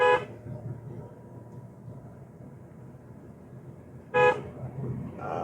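Two short car horn honks a few seconds apart, loud and close, while driving in fog, over a quiet background of traffic rumble.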